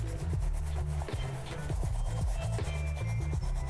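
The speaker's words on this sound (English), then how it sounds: "You grab your toothbrush, any sort of brush, you dip it in your solution, and then just get scrubbing." A toothbrush dipped in cleaning solution scrubs a shoe with rapid, close, rhythmic rubbing strokes and no talking.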